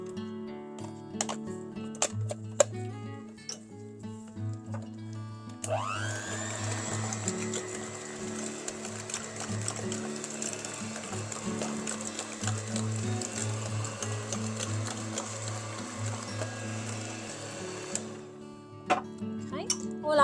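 Carrot cupcake batter with cinnamon and nutmeg is beaten by an electric mixer, which starts abruptly and whirs steadily for about twelve seconds before stopping, with a person talking and some clatter before and after.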